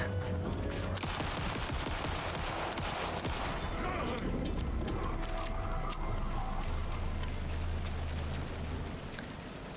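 Dense bursts of loud explosions and crackling blasts in Alan Wake 2 pile up continuously, with rumbling booms underneath.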